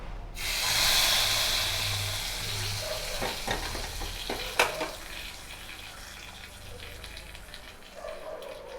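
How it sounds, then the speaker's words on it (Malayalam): A loud burst of sizzling as hot oil and mustard seeds hit mango curry, settling into a steady crackling fry with a few sharp pops. "കടു വറുത്ത് ഒഴിക്കുകയാണ്"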